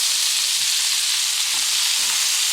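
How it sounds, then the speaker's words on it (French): Eggs and bacon frying in a pan, a steady loud hiss and crackle of sizzling fat, close and continuous with no talk. "Les œufs sont presque prêts et donc on va cuire le bacon"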